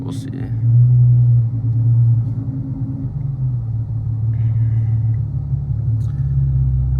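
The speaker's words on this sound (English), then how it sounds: "watch me drive and hear the exhaust on it." A modified Infiniti Q50 3.7 with a loud exhaust drones deeply while driving, its low rumble rising and easing with throttle changes as the cabin is filled with steady engine and exhaust tone.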